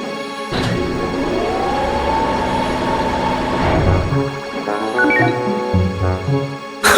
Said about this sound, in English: Ixion, a time-traveling locomotive.